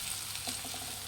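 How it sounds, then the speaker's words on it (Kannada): Onions frying in a pan for mango chitranna, a steady soft hiss of sizzling oil with faint stirring clicks, close and continuous, no voices. "ಈರುಳ್ಳಿ ಚೆನ್ನಾಗಿ ಫ್ರೈ ಆಗಿದೆ"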